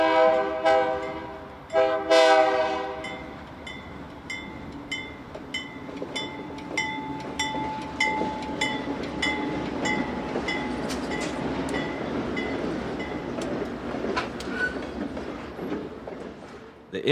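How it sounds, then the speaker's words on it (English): Classic GE Dash 7 diesel locomotives of the Minnesota Commercial Railroad haul a freight train across a diamond, a loud horn blast opening before steady engine rumble and rhythmic wheel clatter roll on nearby. "With its train picked up, the Dash 7s cross over the BNSF St. Paul subdivision."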